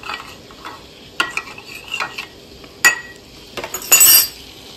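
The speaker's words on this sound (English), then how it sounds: "Just going to give this another stir." A spoon scrapes and clinks around a pot in several short, uneven strokes, with a brighter clatter near the end, close by and without talk.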